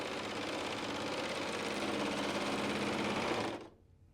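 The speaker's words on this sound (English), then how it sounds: "I like to just do a whole fresh sewn seam from start to finish now that everything is where it should be" A Bernette serger stitching a 4-thread overlock seam along fabric, a fast, even mechanical whir that runs loud and steady for over three seconds and then stops abruptly.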